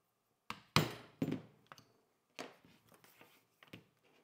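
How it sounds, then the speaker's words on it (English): Pointed awl hammered through leather at marked points on a pattern for rolled handles, a series of sharp close thunks and taps, a few heavy strikes followed by lighter knocks, fairly quiet with no talking. "you can use a pointed awl and just hit that all the way through your leather"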